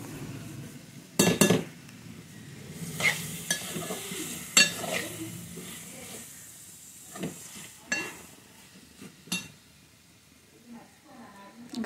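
Mutton curry is mixed with spices in a pan: scraping spoon strokes, metallic clinks and a soft sizzle come in irregular bursts, some sharp and close, others quieter, spread over the whole stretch.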